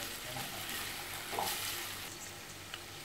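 Ginger garlic paste fries and sizzles in a pan with a soft, steady crackle and a faint stir or two, fairly quiet and without voices.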